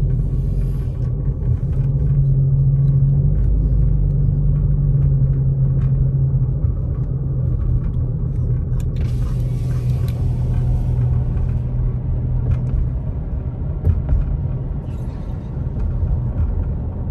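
A truck passing on a snowy road in the Big Bear, California area, a loud, continuous low engine rumble that holds steady throughout with only slight swells.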